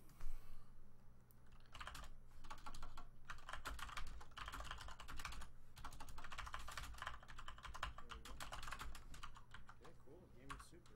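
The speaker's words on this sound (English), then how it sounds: "I can type responses, dude." Fast typing on a computer keyboard during a Super Metroid speedrun stream, bursts of close rattling keystrokes with brief pauses, running under game sounds and some speech.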